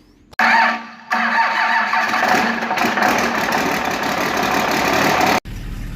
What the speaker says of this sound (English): What a fine machine this 65 is. It's looking and sounding pretty good.